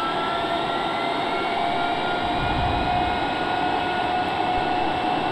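Darkstar experimental jet in a flight simulator game rolls for takeoff, a steady, loud jet engine roar with a sustained whine and rumble, no talking.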